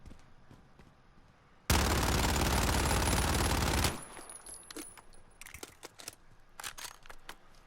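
Rapid SMG gunfire in Call of Duty Modern Warfare, a single dense burst of about two seconds, loud and close, followed by brass-like clinks and scattered game sounds.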